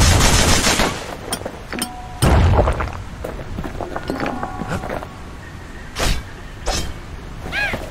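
Enemy gunfire in the action game Bastion, loud rapid bursts of shots and sharp cracks, interspersed with metallic clanks and brief whooshing effects, mixed with game sounds.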